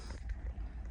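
Strong wind buffets the microphone on a balcony of the P&O cruise ship Britannia at sea, a loud, continuous low roar with gusty fluctuations and no talking.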